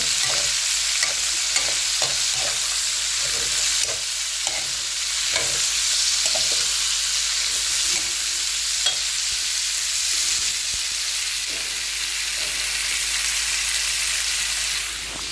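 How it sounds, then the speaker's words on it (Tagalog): Vegetables sautéing in a pan give a continuous loud sizzle, with a utensil clattering and scraping against the pan in irregular strokes throughout. No one speaks. "So, ginisa ko na rin yung gulay, tapos aakinin ko rin yan."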